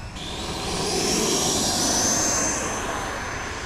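An Eflite Viper 90mm electric ducted-fan RC jet passes overhead with a loud, steady high-pitched whine and rushing roar that swells and fades slightly, no speech.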